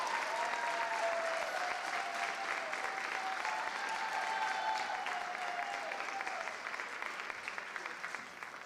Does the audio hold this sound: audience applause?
yes